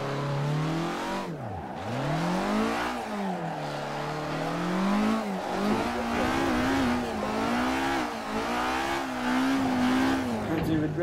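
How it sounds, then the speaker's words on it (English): Car drifting and revving hard in the racing game Assetto Corsa, engine pitch sweeping up and down continuously with tire squeal, loud and close throughout, a voice talking over it. "I'm gonna have to try and drift it up here"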